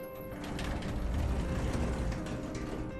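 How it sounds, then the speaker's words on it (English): Elevator doors slide closed with a steady mechanical rumble and faint ratcheting, gear-like clicks, a continuous close grinding hum throughout with no voices. "the doors started closing"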